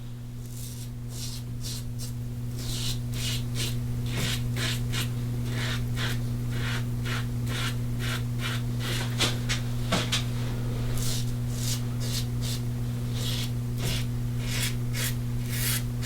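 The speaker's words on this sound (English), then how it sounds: "Okay, now I'll go against the grain on my neck." Slant bar safety razor shaving against the grain on the neck, a rapid series of short rasping strokes, close and steady over a constant low electrical hum.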